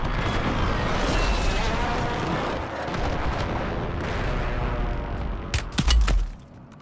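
Heavy gunfire and booming blasts in the Call of Duty Warzone video game roll on continuously and loud for several seconds. A sharper burst of close shots comes near the end before it drops off.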